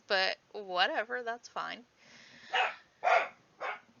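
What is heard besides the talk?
dog barking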